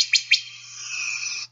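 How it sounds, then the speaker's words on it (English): Wood thrush giving a pit volley call, two quick sharp pit notes followed by a sustained high thin whistle, clear and close against a quiet background with a faint low hum. "Here's an example of a pit volley."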